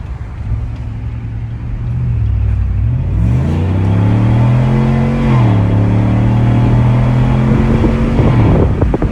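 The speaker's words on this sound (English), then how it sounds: "It's definitely a loud exhaust, straight piped" A 2019 Chevrolet Silverado V8 with a straight-piped exhaust drones loudly while driving, its deep rumble rising and falling as the revs climb, hold and ease, close and continuous for about nine seconds with no talking.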